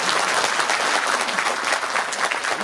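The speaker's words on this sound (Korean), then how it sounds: "좋은 말씀 해주신 김두관 국회의원님께 다시 한번 큰 박수 보내주시기 바랍니다" An audience at an indoor book concert event claps loudly and continuously, a dense, even wash of many hands applauding with no pauses, close and full throughout.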